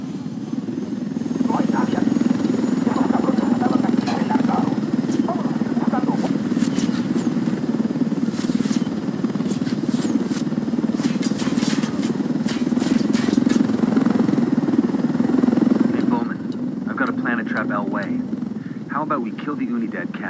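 A helicopter in Ghost Recon Wildlands drones steadily and loudly throughout, a constant low rotor and engine hum with game effects and voices layered over it.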